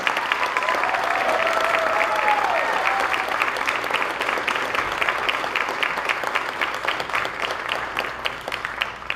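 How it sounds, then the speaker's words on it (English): An audience at a Bharatanatyam arangetram applauds a young dancer with steady, rhythmic clapping while a faint voice or tone rises briefly near the start. "She surely deserves another huge round of applause."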